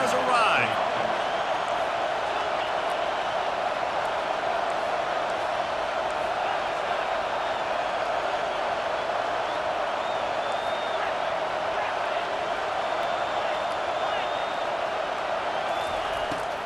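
Steady crowd roar filling a college football stadium during an Ohio State Buckeyes game, a dense continuous wash of voices that holds level from start to finish, with commentary-like talk faint within it.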